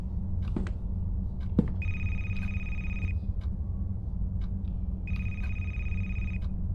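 A telephone rings inside a haunted library in the video game A Place Forbidden, two long electronic bell rings separated by a pause, clear over a low ambient hum with faint clicks.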